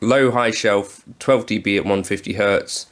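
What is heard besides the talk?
No distinct noise like a dog, phone or traffic.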